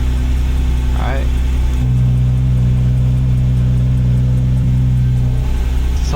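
A Porsche GT4 RS fitted with a full titanium valvetronic exhaust idles with a deep, steady rumble and one brief rev early on, loud and close, with a person talking over it.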